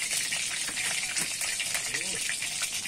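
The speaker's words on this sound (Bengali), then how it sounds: "ওই তেলেতেই কিন্তু আমি গোটা শুকনো লঙ্কা দুটো আর জিরে ফোড়ন দিয়ে দেব" Whole dried red chillies and cumin seeds hit hot oil left from frying bhetki fish bones, giving a loud, dense, continuous sizzle and spatter close by with no pauses.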